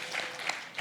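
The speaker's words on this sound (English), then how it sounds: "Let's give our committee a round of applause for the wonderful work that they did today." Faint clapping from a crowd at an academic faculty seminar, a steady patter of applause heard at a distance.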